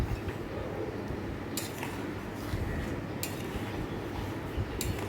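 A utensil stirs a cashew, tomato and green chilli paste in a cooking pan, with quiet scraping and three sharp metallic clinks spaced evenly apart.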